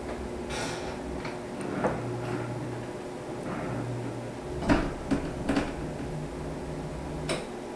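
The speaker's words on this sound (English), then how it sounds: "that click that you just heard was the electromagnetic lock kicking in and securing this bookshelf" An electromagnetic lock on a secret bookshelf door engages with small clicks and knocks, faint and close, over a steady hum with a few sharper taps near the end.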